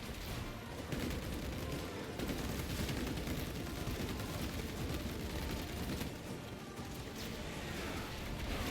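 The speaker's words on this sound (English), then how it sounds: "he was shooting behind me and it kind of startled me a little bit" Dense gunfire rattles continuously in the Space Marine 2 video game, loud overlapping bursts and blasts forming a thick, unbroken barrage.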